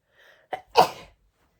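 A single close sneeze: a short sharp intake followed by a loud burst, then quiet.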